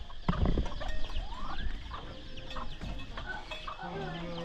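A chicken clucks in a rural Thai countryside village during the hot dry season, with a burst of louder clucks early on and then softer, scattered calls close by.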